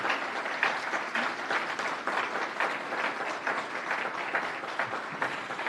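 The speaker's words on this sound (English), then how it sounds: "And now we may applaud the candidates." Audience applauding city council at-large candidates after a forum, dense sustained clapping that stays even and fairly loud throughout, with no voices on top.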